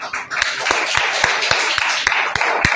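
An audience claps for a woman being called up at a Super Saturday event at a DXN head office, distinct sharp claps in a loose rhythm over a busy room murmur.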